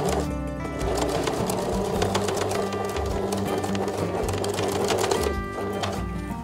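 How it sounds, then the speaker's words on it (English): A sewing machine topstitches along a pocket edge, a fast, steady mechanical whir and needle clatter heard up close with no talking. "Try to top stitch very close to the edge."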